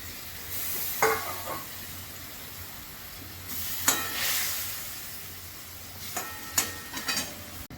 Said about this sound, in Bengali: বাকি মাছগুলো দিয়ে দিচ্ছি